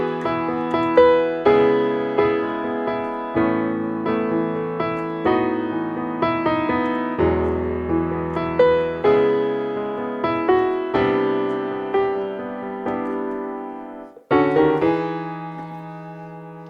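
Piano plays the chorus of the worship song "Jesus The Same" as a steady rhythmic chord progression with a sustained melody on top, clear and close, with no voices.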